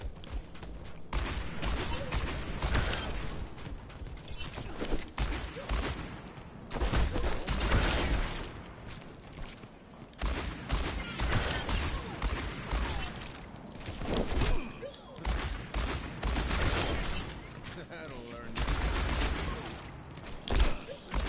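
Repeated heavy gunfire from an Overwatch hero's weapon with big recoil, dense bursts of shots and impacts running almost continuously, loud and close amid busy game effects.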